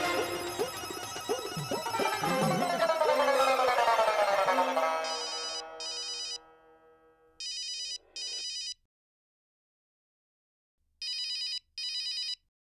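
A telephone rings in repeated double bursts with short pauses, clear and close, after a stretch of music fades out.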